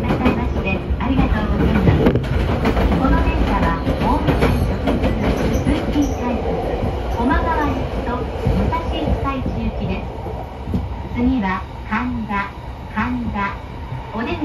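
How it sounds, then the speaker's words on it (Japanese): Chuo Line commuter train pulling out of Tokyo station, heard from inside the car: loud continuous rumble with rhythmic wheel clatter, squeals and rising motor whine throughout. "ということで列車始発の東京出発です。"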